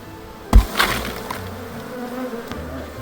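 A honey bee swarm buzzes as a steady hum throughout, handled bare-handed outdoors, with a sharp thump near the start.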